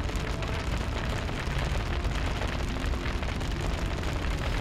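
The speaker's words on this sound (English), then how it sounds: "he's launched a fireball. That fireball has lit the grease on fire." A fireball ignites a pool of grease in the video game Dragon Age: Origins, producing a dense, continuous roaring fire rush with a crackling texture, loud and steady for several seconds.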